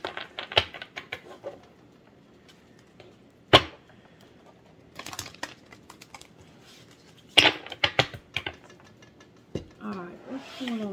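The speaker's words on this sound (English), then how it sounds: "I'm supposed to be shuffling the green ones." Tarot cards being shuffled by hand: irregular crisp riffles and slaps, with several louder snapping bursts amid quieter rustling, close by, and a voice speaking briefly near the end.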